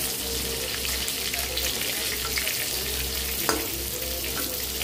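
Potato pieces fry in a pan of oil for a vegetarian potato and pointed gourd mustard curry, giving a steady, even sizzle that runs the whole time at close range with no talking.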